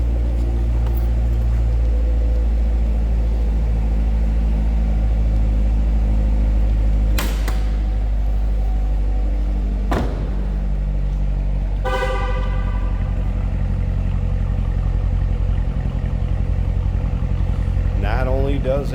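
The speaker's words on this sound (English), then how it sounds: "Listen to that exhaust." A 2015 Chevrolet Corvette 3LT Z51's exhaust gives a steady, deep engine rumble idling throughout, with a short honk-like tone and a brief rising rev near the end, close by.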